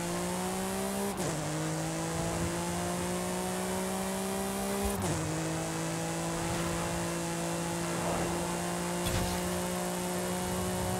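A race car in Forza at full throttle through the Atlantes de Tula speed zone in the winter dry season, its engine revving steadily upward with three sharp upshifts roughly four seconds apart, loud and close with no voices.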